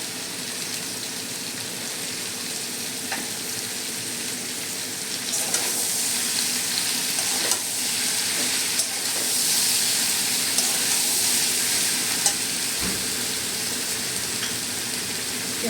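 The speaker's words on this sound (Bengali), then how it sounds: "এবার সামান্য জল দিয়ে আমি মশলাটা কষে নেব।" Spice masala with Kashmiri chilli powder, turmeric and salt frying in a pan for data chorchori, a steady close sizzle with occasional stirring scrapes, no talking.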